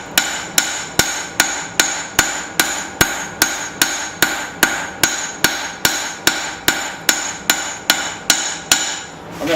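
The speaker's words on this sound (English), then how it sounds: "I'm forging this edge very thin because I'm going to grind back." A hammer forges the edge of a utility knife thin, about twenty loud, crisp, evenly spaced ringing blows at a steady rhythm, close by and with no talking.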